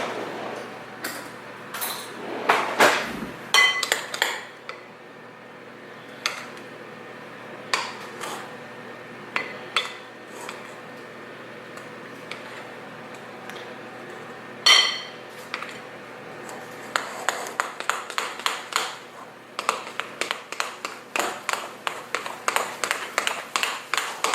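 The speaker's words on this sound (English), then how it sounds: "The recipe cautions that with the almond flour the batter is very heavy, so I'm going to switch from my whisk to a spoon." Spoon scraping and clinking against a bowl while stirring a heavy almond flour batter for Passover baking, irregular taps and scrapes in bursts, quicker and denser toward the end, close by with no talk.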